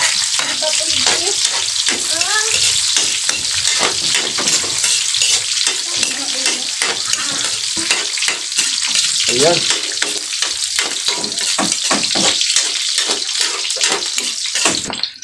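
Onion and garlic frying in a hot pan, a steady broadband sizzle running throughout with frequent scraping and stirring clicks from a utensil, fairly loud and close, with a few faint voice fragments in the background.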